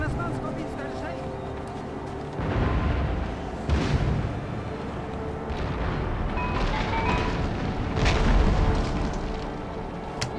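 Cannons fire in an Empire Total War battle at a fortress, several heavy booms and rumbling blasts, some distant, under continuous talking.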